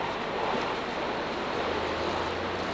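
Niagara Falls water rushing and overflowing from the Niagara River, heard as a steady, dense, loud roar of churning water that continues without pause, with a low rumbling undertone.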